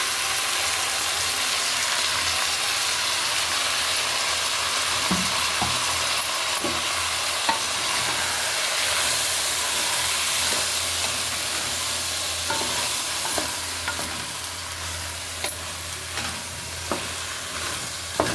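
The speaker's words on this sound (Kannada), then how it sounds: "ಚೆನ್ನಾಗಿ ಈ ಥರ ಎಣ್ಣೆನಲ್ಲೇ ಬೇಯಬೇಕಿದು." Ground masala paste frying in oil for sagu, a loud steady hiss and crackle with periodic scraping and tapping of a stirring spoon, close and with no one speaking.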